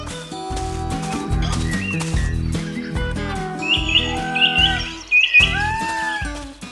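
Cartoon birds chirp and tweet on a spring farm in an animation, bright repeated calls layered over a tonal music backing, fairly loud and close.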